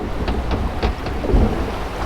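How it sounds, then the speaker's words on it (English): Large water drips fall from a bridge onto a flume ride, a scatter of splashes and patters over a rushing, rumbling water background, fairly close and irregular. "that was some pretty big drips off the bridge there"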